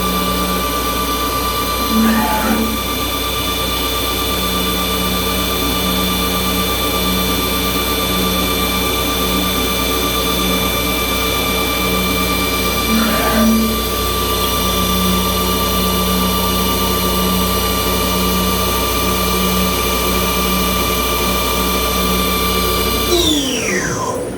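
A loud, continuous CNC mill drone during a spring pass on a flat part, with a high, steady whine and faint periodic sweeps, slowing and winding down at the very end.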